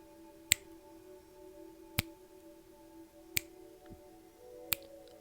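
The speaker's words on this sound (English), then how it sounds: "every time I would snap my fingers, you just feel a jolt of pleasure" Four crisp, close finger snaps ring out alone at an even, unhurried pace, each a sharp isolated crack over a faint steady hum.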